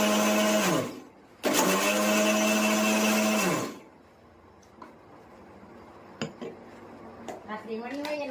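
A kitchen mixer grinder whirs loudly in two bursts while grinding pieces of bhakri flatbread into crumbs for churma ladoo, then stops, leaving lighter clinks and rattles of the jar and utensils.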